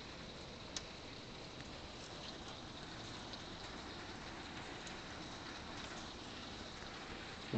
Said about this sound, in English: Here we are, it's hailing.